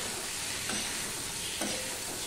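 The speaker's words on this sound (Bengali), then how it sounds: "দিয়ে সম্পূর্ণটা মিশিয়ে নিয়ে আমি রান্না করতে থাকবো।" Tomato and green chillies stirred and frying in a pan for a Bengali bhendi aloo katla fish curry, a steady close sizzle with a couple of faint scrapes of the spoon, no voice.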